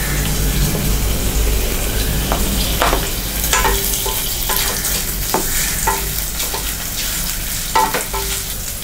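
Onions and curry leaves fry in a pan of oil for a mutton gravy, giving a steady close sizzle with a few clinks and scrapes as the mixture is stirred.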